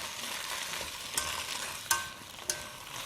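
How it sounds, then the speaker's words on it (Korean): Dried squid strips (jinmichae) are stir-fried in a pan, with a soft continuous sizzle under a few sharp scraping clicks of the spatula against the pan. "진미채 넣고 이제부터는 열심히 같이 볶아주기만 하면 돼요"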